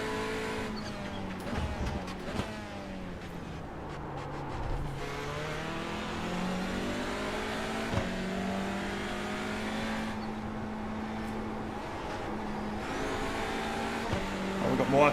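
TCR race cars running side by side in a racing game, engines droning and rising in pitch through a corner, with one car's note swelling then falling away and commentary voices over the racing.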